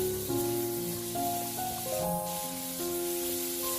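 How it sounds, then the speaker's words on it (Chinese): Pork ribs stir-frying slowly over moderate heat in a pan, a steady spraying sizzle and hiss with sustained tonal notes running alongside, close and moderately loud with no talk. "排骨要久炒一会儿，火不能太大，把里面炒透"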